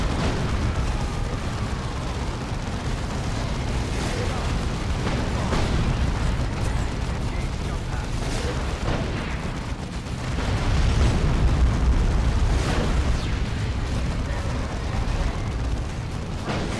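Cannon turrets and explosions in Dawn of War II: Chaos Rising make a dense, continuous rumble of booms and bursts, loud throughout with repeated impacts layered over one another.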